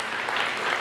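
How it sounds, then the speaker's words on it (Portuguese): Brief burst of steady clapping from a congregation at a Pentecost vigil in church, a short even wash of applause. "Pode dar uma salva de palmas"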